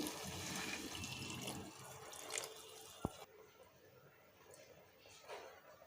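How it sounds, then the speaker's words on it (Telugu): Water is poured into a pan of meal maker (soya chunks) and paneer curry, a close broadband splashing pour lasting about three seconds and then settling into quieter liquid sounds. "ఇప్పుడు కొంచెం వాటర్ వేసుకోవాలండి."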